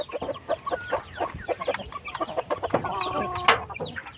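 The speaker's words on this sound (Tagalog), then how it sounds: "So dadami na naman tong ating mga manok." Chickens cluck constantly and close by inside a coop in a farm area. Several birds make short, overlapping calls, with one louder squawk near the end and a steady high hiss in the background.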